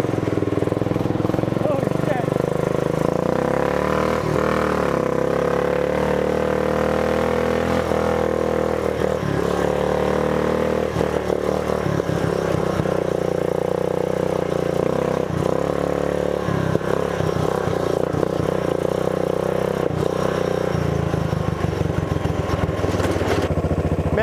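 An ungoverned small engine fitted with a Lacuni carburetor runs loud and close, holding a steady drone with some revving and rattling throughout.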